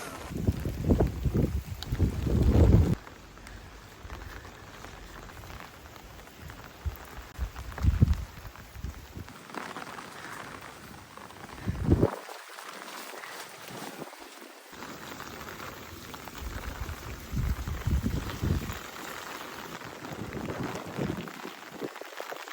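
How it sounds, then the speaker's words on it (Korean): Strong wind buffets the microphone on Yokjido island near Tongyeong during a rainy, stormy day, with heavy low rumbling gusts in bursts and a steady hiss of blowing air and rain throughout. "얘가 바람이 장난이 아니에요"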